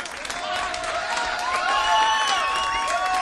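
Crowd at a stand-up comedy show applauding and cheering loudly as the set closes, a sustained roar of clapping and voices with some whistles mixed in.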